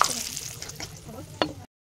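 Whole cardamom, cinnamon, cloves and bay leaf frying in oil left from potatoes for mutton curry, a soft close sizzle with stirring scrapes and a sharper clink near the end.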